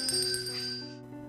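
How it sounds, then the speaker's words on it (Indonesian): A ringing bell from a scene in The Conjuring horror film, a bright tone with shimmering overtones that rings steadily and then fades out abruptly after about a second. "Billy kembali mengalami gangguan, di mana dia mendengar suara lonceng"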